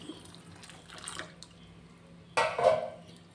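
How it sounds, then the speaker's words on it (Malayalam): Milk is poured into thick payasam (custard-powder milk kheer) at home, a short liquid splash and gush that comes in near and fairly loud after a quieter opening of faint kitchen clatter. "നമുക്ക് ഈ പാലും കൂടി ഒഴിക്കാം"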